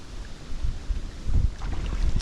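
Strong wind over a river buffets the microphone in a steady, heavy roar, with low rumbling gusts and a faint watery wash beneath.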